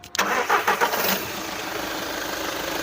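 A 2014 Skoda Rapid top model cranks briefly with a few quick pulses, then catches and settles into a steady, smooth idle. The engine is close by and nobody speaks.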